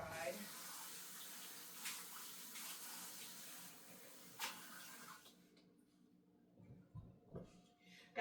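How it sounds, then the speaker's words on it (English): Water runs steadily from a sink tap as a continuous broadband rush, then shuts off about two-thirds through, leaving a few faint drips and handling sounds. "Just going to put some water on it so it won't dry."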